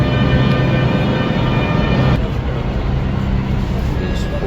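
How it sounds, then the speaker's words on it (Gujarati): A Jaipur metro train pulls into the station with a loud rumble and a high, tonal motor whine that cuts off partway through, leaving platform noise, with people talking nearby. "આવી ગઈ છે આપણી મેટ્રો."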